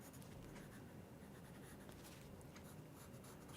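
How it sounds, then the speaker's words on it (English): A pencil with soft, dark 6B lead, held on its side, rubs steadily across drawing paper in a continuous, quiet scratchy shading sound with no talking. "I use the side of the pencil."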